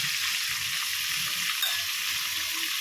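Homemade KFC-style chicken pieces fry in hot oil with a steady, moderately loud bubbling hiss that holds constant throughout and has no talking over it.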